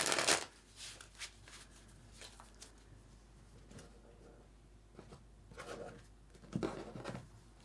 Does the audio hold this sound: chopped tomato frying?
no